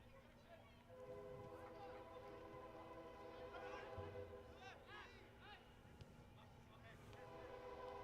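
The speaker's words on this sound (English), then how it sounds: "the train goes behind R.L. Anderson Stadium" A train passes behind R.L. Anderson Stadium during a second-half soccer match between Gallos FC and Lubbock, heard as a steady low rumble with sustained horn-like tones beneath crowd noise and broadcast commentary.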